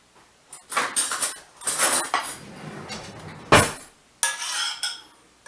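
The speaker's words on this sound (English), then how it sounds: "Give it a quick stir in the pan. Then I'm going to grab a spoon." A spoon clanks and scrapes against a pan while mushroom sauce is stirred, in loud uneven bursts separated by short pauses, with no one speaking.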